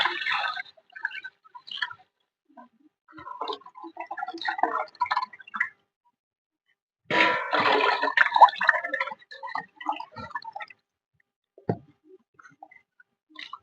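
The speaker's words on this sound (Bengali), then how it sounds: "এই জলটা আমি ফেলে দেবো," Water from cooking poured away in bursts and splashes, intermittent with gaps of silence between pours, fairly close and moderately loud.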